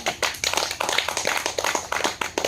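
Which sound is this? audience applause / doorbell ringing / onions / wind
audience applause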